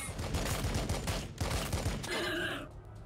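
Rapid volley of gunfire in the Warhammer 40K Battlesector video game, dense overlapping shots and bursts crackling loudly for about two seconds before tailing off into a short echoing decay.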